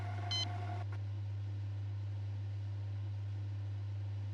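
A keypad in a video game gives a short, bright electronic beep for a wrong code, heard once near the start, followed by a steady low droning hum that carries on alone.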